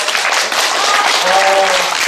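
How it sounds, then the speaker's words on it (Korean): A short burst of steady applause from a group of people, with a few voices mixed in under the clapping. "박수 한번 쳐주세요."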